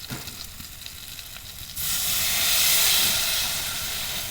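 Water poured onto spice paste frying in oil in a pan for a Bengali fish curry sets off a sudden loud, broad hissing sizzle that swells and then holds steady after a quieter start.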